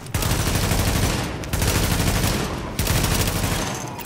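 Sustained automatic gunfire in the video game The Division, a loud, dense stream of rapid shots with two brief pauses, heavy and close throughout with no talking.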